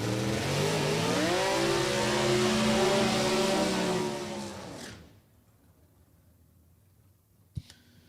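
A slant-six engine in a bantam-bodied C altered drag car with split headers revs hard and loud for about four seconds, then cuts off, leaving near silence broken by one sharp knock near the end.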